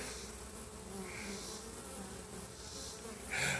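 Bees buzz in a low, continuous drone, fairly faint and steady, with one louder pass near the end.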